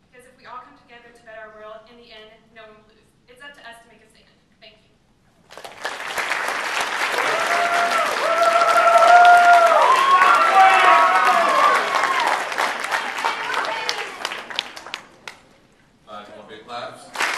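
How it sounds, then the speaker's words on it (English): A crowd bursts into sustained applause at student candidate speeches, building to a loud peak and then tapering off, with a speaking voice just before and after. "big claps."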